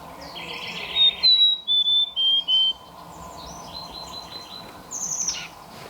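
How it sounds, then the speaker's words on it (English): A Mountain Chickadee calls in wooded terrain around a spring along the Pacific Crest Trail, giving a run of clear, high, whistled notes and harsher chirps at moderate distance over a quiet outdoor background. "Mountain Chickadee here has a different dialect than what we hear in the Sierra."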